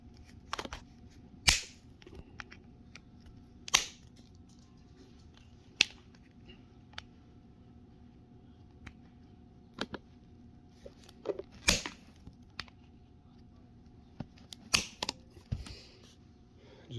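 Sharp, isolated snips and clicks, about a dozen spread irregularly over a quiet background with a faint steady hum, as a part of a kayak trolling motor mount is trimmed close by.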